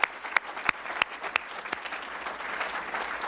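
Audience applause for startups at a demo day event, sharp claps at first that settle into a steady, sustained round of clapping from a large crowd.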